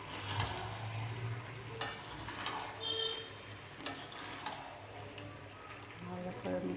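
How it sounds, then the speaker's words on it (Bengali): A spoon stirs ground spices, ginger and cumin into a vegetable curry in a pan, with a soft sizzle and repeated clinks and scrapes against the pan while someone talks. "এবার ভালো করে মিক্সড করে নেবো"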